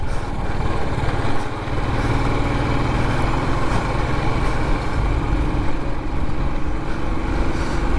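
A Bullet motorcycle engine runs steadily nearby, a continuous rough, thumping drone holding an even level throughout with no voices over it.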